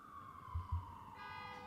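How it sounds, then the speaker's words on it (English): Emergency vehicle sirens drift in through a window in New York City, a faint, steady wailing tone under city hum, with a couple of soft low thumps nearby. "sirens in the background at Jake's window."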